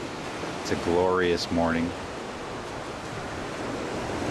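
Calm ocean surf rolls in at Juno Beach, Florida, at sunrise as a steady, soft wash of noise, with a voice speaking briefly over it near the start.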